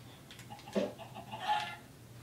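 A chicken clucks in a fishing mini-game, giving a few short, quiet clucks over a low background hum.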